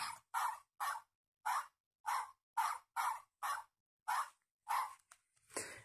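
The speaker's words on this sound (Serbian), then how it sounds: "Vidite, ovdje ima dugme i čuje se kuca." A button on a children's sound book from 2019 plays a recorded dog bark, repeated about eleven times in quick, evenly spaced electronic yaps, clear and alone.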